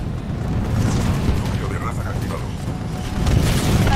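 Dense, rumbling rocket explosions from the video game Titanfall 2, a continuous loud barrage with low thuds and crackling, swelling again toward the end.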